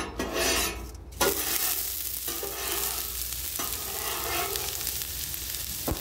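Finely diced onions dropped onto a hot griddle with olive oil while cooking outdoors on a homestead, a sudden loud sizzle that settles into a steady frying hiss with occasional scraping, no talking.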